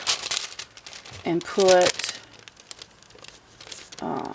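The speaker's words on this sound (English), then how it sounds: "this piece of wax paper, just kind of thread it in here like so" Wax paper is crinkled and handled while gluing a finished stitched panel onto a box, giving short close rustling crinkles under a person talking.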